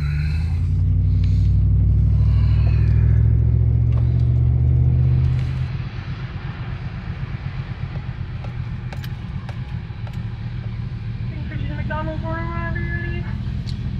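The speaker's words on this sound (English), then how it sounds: "Ooh, speed bump." A truck rolls with a heavy low rumble that thumps over a speed bump and then drops to a lighter rolling hum, with a faint horn-like tone near the end and no talking.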